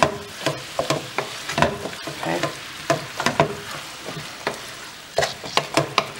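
Onions being stirred into browning beef in a hot pan: a steady sizzle broken by repeated sharp spoon scrapes and clacks in uneven bursts, close and clear with no talking.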